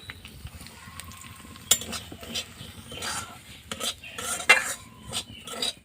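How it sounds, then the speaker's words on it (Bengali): Raisins frying lightly in a pan as a bowl of semolina is tipped in, with spoon stirring, scraping and light clinks of utensil against pan, moderately close and fairly quiet, no talking. "কিশমিসটাকে একটু হালকা ভেজে নেবো এবারে দিয়ে দিচ্ছি এক বাটি সুজি"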